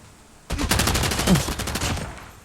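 Gunfire in the video game Call of Duty breaks out suddenly as a rapid, sustained automatic burst of sharp cracking shots, loud and close, with no talking over it.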